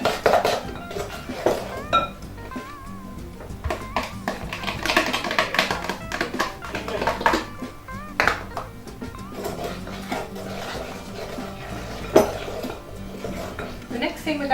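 Margarine and sugar being beaten into a cake mixture in a bowl, with clattering, scraping utensil knocks against the bowl at an irregular rhythm, fairly close and moderately loud.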